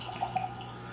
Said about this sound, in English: Pour a little of this in the glass here.